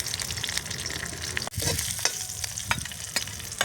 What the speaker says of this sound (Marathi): आता जिरे चांगले लाल झाले, आता कढीपत्ता टाकून घेते